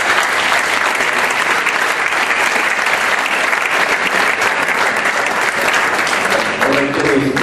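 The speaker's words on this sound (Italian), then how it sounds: "fare un grosso applauso" Sustained applause from an audience at a political list presentation, dense and steady clapping filling the room for several seconds, loud and close.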